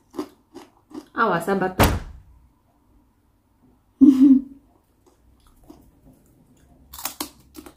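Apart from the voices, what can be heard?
eating crunchy homemade potato chips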